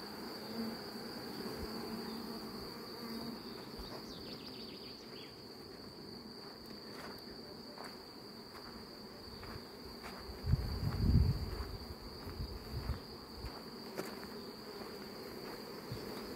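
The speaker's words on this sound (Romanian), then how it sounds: "Își vede de treabă albina." Honeybees at evening hives in an acacia apiary, giving a continuous buzzing drone with a steady high insect tone, some closer bursts of wing noise midway, and no talking.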